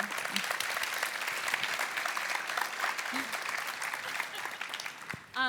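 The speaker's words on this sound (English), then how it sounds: "Another round of applause for them" Conference audience applauding at the Atlassian Summit 2016, a steady dense wash of clapping filling the hall throughout, with a brief voice at the very end.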